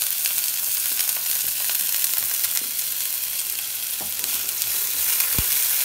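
Onion, green chili and ginger fry in a pan with a bright, steady sizzle, close and even, broken by a few soft scrapes and taps of a spoon stirring.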